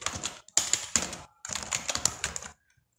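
Quick bursts of keystrokes on a computer keyboard while code is typed, clattering in two close, dense runs with short pauses between them and silence at the end.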